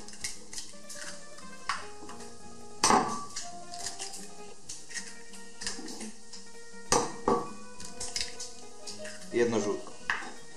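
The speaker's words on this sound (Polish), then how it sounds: "wybijcie sobie 3 całe jajka do miski" Eggs are cracked into a bowl while cooking carbonara, giving sharp knocks and clinks of shell against the bowl, with dishes clattering and music playing in a home kitchen.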